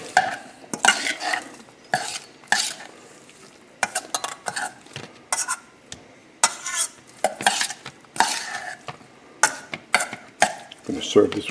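Shrimp being mixed with olive oil and smoked paprika, heard as repeated clattering scrapes and clinks of a utensil against a bowl in uneven bursts, close up, with no talking.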